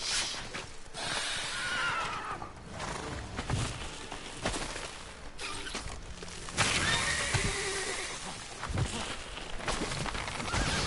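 Roach the horse in The Witcher 3 whinnies and snorts near a cemetery, with clip-clopping hooves and shuffling movement throughout, several neighs rising loud and close.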